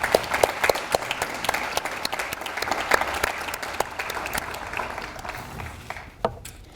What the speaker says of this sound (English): Let's please give everyone a hand of applause.